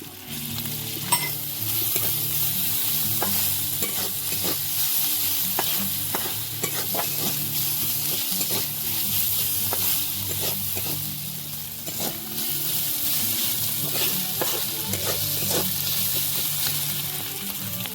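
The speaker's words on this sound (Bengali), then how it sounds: "এবারে আমরা আদা বাটা রসুন বাটাটা দিয়ে দিচ্ছি, দিয়ে হালকা করে ভেজে নেব" Ginger-garlic paste frying with onions in oil in a pan, a steady loud sizzle lasting throughout, broken by frequent scraping stirs and small clinks of the spoon.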